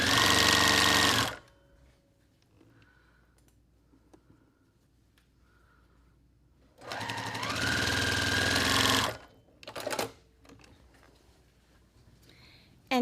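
A sewing machine stitches a quilt block in two loud, close bursts of rapid whirring, each a second or two long, separated by a quiet stretch with faint small sounds, followed by a brief short run near the end.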